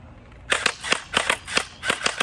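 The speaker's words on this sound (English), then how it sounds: "All right, let's shoot him." A gun is fired in a quick series of about nine loud, sharp cracks, several in tight pairs, at close range over a quiet outdoor background.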